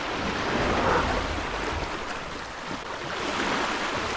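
Ocean surf washing onto a beach at low tide, a steady broadband rush of breaking waves with some wind noise, continuous and fairly loud throughout.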